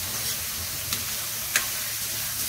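Ground pork with spinach frying in a pan gives a steady, close sizzle with a couple of light scraping stirs, and no talking over it.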